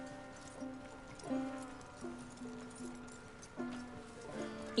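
Hooves of Arthur's horse clip-clop at an easy walking pace in the video game Red Dead Redemption II, a soft repeated rhythm beneath low background music.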